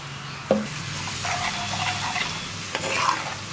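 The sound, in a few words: spices frying and stirred in pan after adding vinegar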